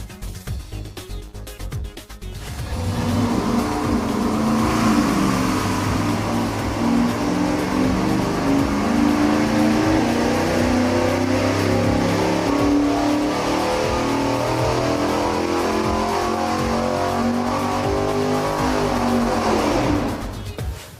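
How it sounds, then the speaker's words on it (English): A V8 with long-tube headers and a big camshaft revs hard on an engine dyno, a loud sustained exhaust roar that builds at about two and a half seconds and holds steady for some eighteen seconds before cutting off. No one talks over it. "we've got some real exhaust installed in it now. So we've got long tubes."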